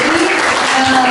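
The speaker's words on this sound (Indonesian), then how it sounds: "Tepuk tangan dulu buat beliau." A crowd applauds a speaker at an Indonesian literacy camp gathering, a brief, dense burst of clapping that fills the room evenly and continuously.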